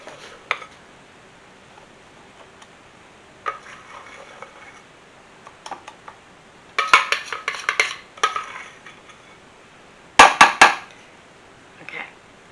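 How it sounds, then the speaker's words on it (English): Plastic scraper working cake batter out of a bowl into a pan for pumpkin bread: scattered soft scrapes and sharper clinks and knocks in irregular bursts, close by, with no talking. "Got me a scraper here, so I can just get all that batter off of there"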